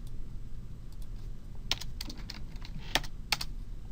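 Keys clatter on a computer keyboard, a few sharp isolated taps standing out over a soft steady room hum, with no voices.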